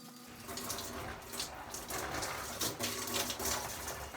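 Water runs steadily from a tap or shower while shampoo is rinsed out of curly hair, a continuous close splashing hiss with small bursts of spatter throughout, without talk.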